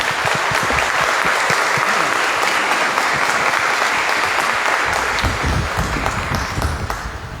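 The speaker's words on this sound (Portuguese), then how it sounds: "Uma salva de palmas à congregação." Steady, loud applause from a congregation at a Mass of thanksgiving in a church in Campinas, a dense continuous wash of clapping that fades slightly at the end.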